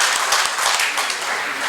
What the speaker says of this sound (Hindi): जोरदार तालियां, बहुत बढ़िया।